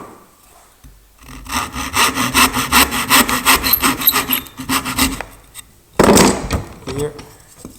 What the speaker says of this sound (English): we will use the vise to cut those shoulders down